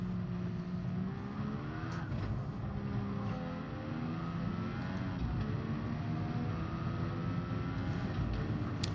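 Car engine in the Gran Turismo Sport racing game, a low-key, subdued tone rather than a high-revving scream, droning steadily with shifting pitch throughout, with no speech.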